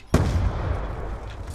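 An explosive arrow goes off in Black Ops 2, a single loud, sharp blast with a broadband burst that decays into a rumbling tail, heard alone without talk.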